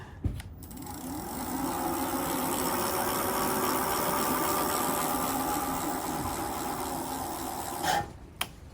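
A Lectric XPeak e-bike hub motor spins up under its thumb throttle with the bike tipped, a steady close electric whine that holds for several seconds and then winds down, bracketed by a couple of clicks.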